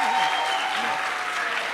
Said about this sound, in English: You clap for them.